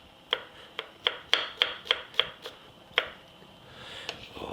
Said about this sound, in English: I'm going to have about 4 or 5 cloves of garlic here. So they are big. I'm going to cut them very coarsely.